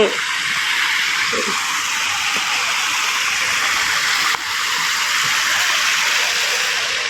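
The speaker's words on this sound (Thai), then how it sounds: "มีน้ำตกด้วยพี่น้อง" A waterfall at an organic vegetable garden in Laos gives a steady, close, broadband rush of falling water that holds without a break, with no talking over it.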